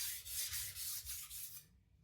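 A Takayuki Shibata Bitey Finisher knife is drawn across a sharpening surface under only its own weight, giving a quick series of about seven close, even rasping strokes that stop abruptly.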